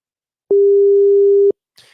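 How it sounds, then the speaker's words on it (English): Telephone ringing tone on an outgoing call, one steady one-second electronic tone that starts and stops cleanly, followed by a short burst of faint noise. "Let me know if you can hear that ringing, will you, folks, at the moment?"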